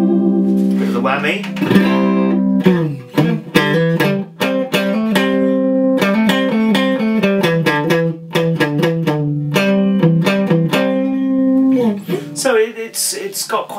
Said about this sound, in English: And give you a bit more on the whammy.